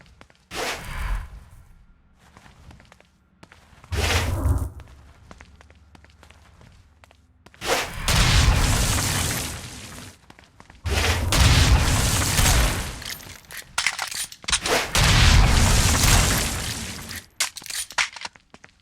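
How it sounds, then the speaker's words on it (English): Stone Blast explosions in the video game Saints Row: Gat out of Hell, several heavy booming blasts with crumbling, crunching debris arriving in bursts, separated by quieter stretches with lighter impacts. "Stone Blast is especially useful on flying demons like this one"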